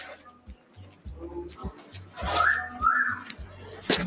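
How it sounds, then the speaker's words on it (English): Several sharp whistles ring out from a crowd, rising and falling in short bursts amid scattered knocks and background chatter. "Why are they whistling?"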